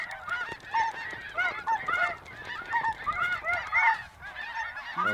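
A flock of snow geese honks continuously at a hunting spread, overlapping nasal calls at close to mid distance, rising and falling in loudness with no talk.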